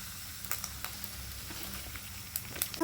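Dry red chillies sizzle in hot oil while puliyogare is being made, a soft, steady frying crackle with scattered sharper pops and a faint stirring clatter near the end.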